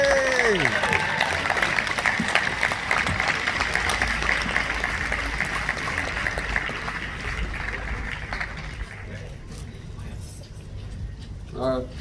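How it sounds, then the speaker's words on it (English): Outdoor crowd applause and cheering for a speaker at a Black Lives Matter march on July 4th in Burlington, Vermont, steady clapping that gradually thins out, with voices mixed in. "Let's get a good round of applause for Mustafa."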